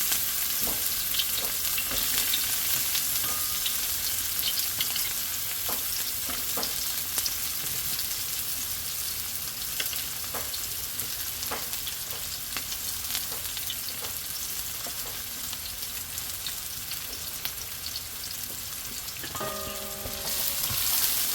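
Onion frying in oil with cinnamon, cardamom and chopped garlic for a special khichuri, a steady dense sizzle running throughout with occasional stirring clicks, close and fairly loud, no talking.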